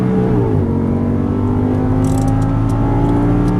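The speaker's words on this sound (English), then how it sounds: "a little bit of throttle to that apex, and accelerate out, upshift" Audi R8 V10 accelerating hard out of a corner on a racetrack, a loud steady engine roar with rising pitch through an upshift, close and continuous, with no talking.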